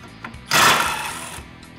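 Power tool whirring for about a second while removing one of the five clutch plate bolts on a Polaris UTV during a clutch kit upgrade, a short burst with no talk.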